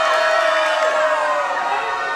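A big, excited crowd at a wrestling show in the Battlefield Performance Center roars and cheers continuously, a loud, dense wall of voices throughout.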